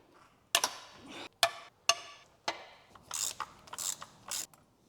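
Breaker bar ratchet loosening tight spark plugs on a VW Phaeton W12 engine gives several sharp clicking bursts, close and distinct, followed by quicker faster ratcheting near the end.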